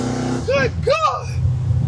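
A 1988 Oldsmobile Cutlass with a big block engine rumbles loud and low nearby, revving through gears, while someone talks excitedly over the steady engine drone.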